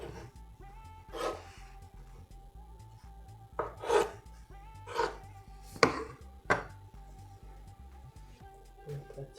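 A knife cuts through rolled cinnamon roll dough, making about six separate soft thuds against a board at uneven intervals in a quiet room.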